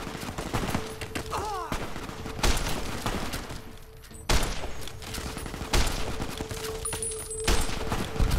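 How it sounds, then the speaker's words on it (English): Gunfire from a sniper-rifle-armed companion in Fallout: New Vegas, with sharp shots cracking out at irregular intervals over a steady game ambience. "Shoot him, Boone"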